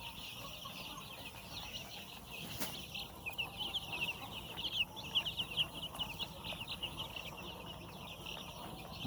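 Young Hi-line Brown layer chicks make a continuous busy chorus of soft clucks and cheeps in a poultry shed, with louder peaks midway and steady background noise throughout.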